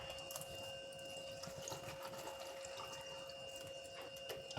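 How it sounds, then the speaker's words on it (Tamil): Water pours steadily into a mixer jar while juice is being made, a continuous close splashing flow that runs evenly throughout with no talking. "தண்ணி வந்து ஊற்றிட்டேன்,"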